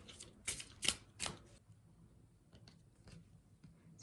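Oracle cards shuffled by hand in a quiet room: a few sharp, close riffling bursts early on, then softer intermittent card rustles and taps.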